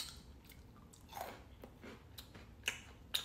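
Quiet close-up chewing of chocolates, with soft crunchy bites and mouth sounds spread over a few seconds, a couple of sharper crunches toward the end.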